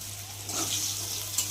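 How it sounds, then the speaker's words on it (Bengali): Bitter gourd pieces frying with salt and turmeric give off a steady, close hiss of sizzling oil, fairly even throughout with a slight swell midway and no talking. "দিয়ে একটু ভালো করে ভেজে নেব।"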